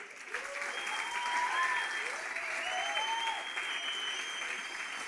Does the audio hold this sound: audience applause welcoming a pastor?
yes